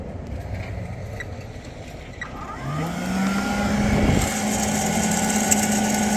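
A Sparx ES200 skate sharpener motor grinding with a 5/8 inch disc in a cold-related stall, whining as it strains and fails to reach speed, its pitch wavering and sagging before settling into a steady labored hum, with no talk.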